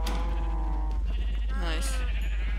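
Sheep in Minecraft bleat in short, nasal, wavering calls, several overlapping near the microphone, with a person speaking over them and a low steady hum underneath.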